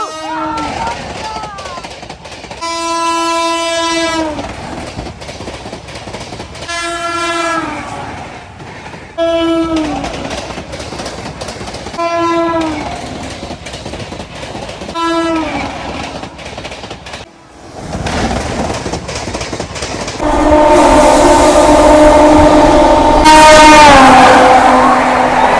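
Sanghamitra Express train running past with its horn sounding in repeated long blasts over steady rumble and clatter of the wheels, growing louder and more intense near the end.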